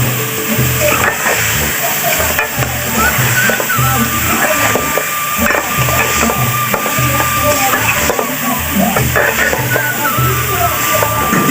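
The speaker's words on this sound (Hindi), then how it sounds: "ये देखिए इसको भूनेंगे अब अच्छी तरीके से भूनेंगे इसको" Ridge gourd and potato pieces fry in a pan for a curry, with a steady broadband sizzle and hiss throughout, broken by regular soft scraping knocks as the vegetables are stirred and turned.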